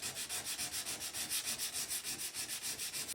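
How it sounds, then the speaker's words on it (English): Steady rhythmic sanding with 120 grit sandpaper on a steel bathtub, a coarse abrasive rasp repeating in quick even strokes against a hard surface, close and continuous with no voices. "take some Bondo to with some 120 grit sandpaper to go ahead and start sanding it out"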